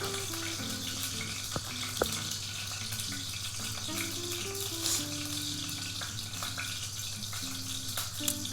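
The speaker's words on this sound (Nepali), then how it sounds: "मलाई त यो फ्राई गर्दा त डर लाग्छ अलिक टाढै बस्नुपर्छ" Small fish sizzle and spatter in hot sunflower oil, a steady dense crackling hiss with occasional sharper pops, close and continuous for the whole stretch.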